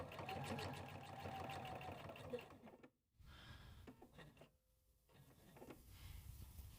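A sewing machine runs a box stitch across a tote bag handle, a whirring, rattling motor run that stops abruptly, then gives way to short, quieter bursts and handling clicks.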